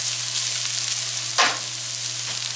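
Kimchi fried rice frying in a pan, a steady close sizzle throughout with one brief stirring scrape midway and a faint low hum underneath.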